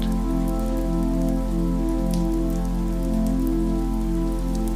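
Light sprinkles of rain tap softly and irregularly on the ground as a storm gathers, a steady patter with no voices, set over a constant low tonal hum.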